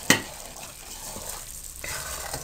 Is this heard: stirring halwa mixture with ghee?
yes